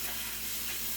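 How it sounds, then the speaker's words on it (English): Steady, quiet sizzling of bacon frying in a pan, a continuous crackly hiss with no talking. "Once I get a good sizzle on the bacon"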